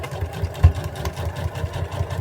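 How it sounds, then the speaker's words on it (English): A sewing machine back-stitches a seam on a pair of overall pants, its motor humming steadily with a fast, even pulse of the needle throughout. "So back stitch,"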